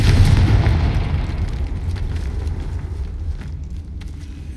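A Confringo blasting spell detonates in Hogwarts Legacy, a loud, deep booming explosion that hits hard at the start and then rolls off in a long rumbling decay.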